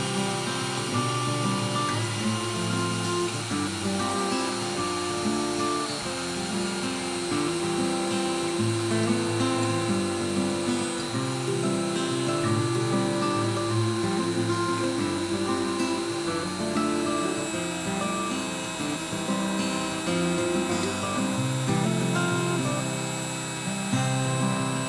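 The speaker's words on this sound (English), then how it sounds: "Okay, time to route. I'll set the 1/8 inch depth and get to work." A handheld router with an 11-degree bit cuts a 1/8 inch deep outline into a wooden lake-map panel, giving a loud, continuous, steady motor whine mixed with the grind of the cutter biting wood.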